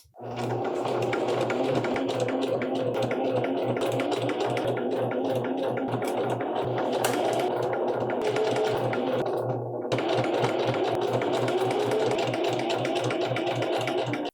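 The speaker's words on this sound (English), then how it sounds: "I'll pin this together and we'll sew it." A domestic sewing machine runs steadily for about fourteen seconds, stitching a pinned pants seam with a fast, even mechanical whir and rapid needle chatter, briefly dipping in pace near the end before resuming.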